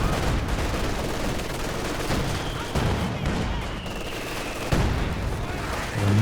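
A mortar barrage and gunfire in the Company of Heroes 2 video game, a dense, continuous din of rattling shots and dull booms with no quiet gaps.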